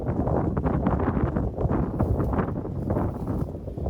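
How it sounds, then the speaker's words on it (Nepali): Steady wind at Tarey Bhir in South Sikkim buffeting the microphone with a low rumble throughout, loud and continuous, with no voices. "हावा दामी चलिरहेछ क्या"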